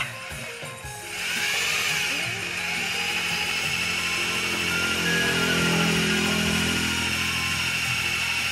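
A power drill bores steadily into the brake bleeder nipple of a motorcycle disc brake, a loud, continuous grinding whine that starts after a quiet second and holds to the end.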